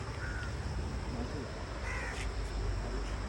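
A crow caws several times in short harsh bursts, moderately near, over steady outdoor background noise.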